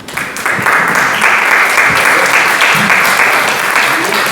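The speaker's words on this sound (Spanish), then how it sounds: "sé que están aplaudiendo porque ya terminó" An audience in a congress chamber applauds, a sustained dense clatter of many hands clapping steadily at close range, with a few voices faintly underneath.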